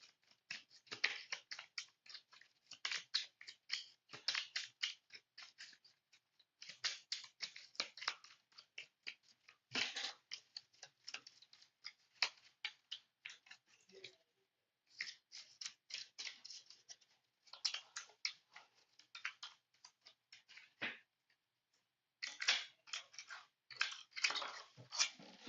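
A deck of cards shuffled during a tabletop card game, heard as repeated quick riffling and flicking bursts in short runs with brief pauses between them, quiet and close, with no talk.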